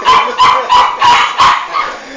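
A dog barks five times in a quick, steady rhythm, close and loud, followed by a softer trailing yelp.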